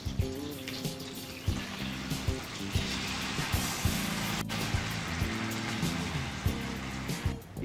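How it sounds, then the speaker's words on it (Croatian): Prošek wine is poured into a hot pan holding veal rolls and strained frying fat, giving a rushing, splashing pour over a low sizzle with occasional clinks and no voices. "U tavu zatim ulijemo prošek."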